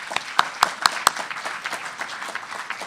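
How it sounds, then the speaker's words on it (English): A conference audience gives a round of applause, scattered clapping with a few sharp louder claps standing out, moderately distant and fading toward the end. "Let's give Ed a great round of applause."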